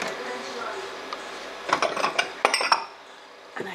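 Dishes clink as a bowl is taken out in a kitchen: a quiet room tone, then a short burst of several clattering knocks and chinks, with one faint clink after a pause.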